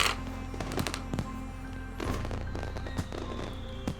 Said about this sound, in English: The final rocket goes out with a bang of silver and blue